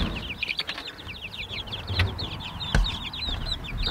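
Young meat chickens in a backyard brooder make rapid, high, continuous peeping chirps close by, with a few soft thumps and no talk.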